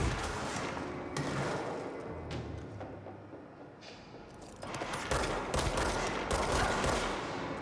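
Rapid gunfire bursts from an Indiana Jones video game firefight, dense crackling volleys with heavy thuds, continuous and fairly loud throughout with intensity building in the second half.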